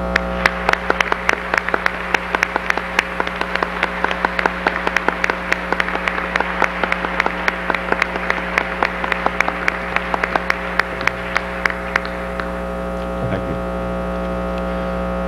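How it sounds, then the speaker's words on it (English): Collective applause at a 1991 hall of fame induction ceremony, a sustained run of loud, close clapping over a constant electrical hum, tapering off after about twelve seconds. "I feel that a collective round of applause would be in order at this time."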